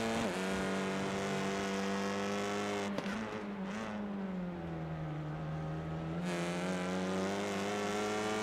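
Loud, sustained engine drone of touring cars racing at Snetterton, pitch shifting as cars pass close by, with a brief tire screech.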